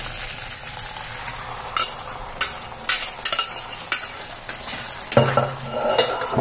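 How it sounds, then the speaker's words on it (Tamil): Dried red chillies and onion fry with popped mustard seeds in a pan for a greens stir-fry, a steady sizzle broken by repeated sharp scrapes and clinks of a stirring spoon against the pan. "கடுகு பொரிஞ்ச உடனே காஞ்சி மிளகாய் போட்டேன், வெங்காயம் போட்டேன்."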